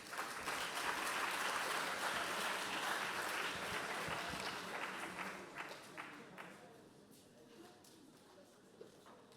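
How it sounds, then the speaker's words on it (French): Applause from an audience at a French oratory contest final as a student association comes up for a prize, a dense wash of many hands that gradually thins and fades, with voices murmuring underneath. "Et on peut les applaudir"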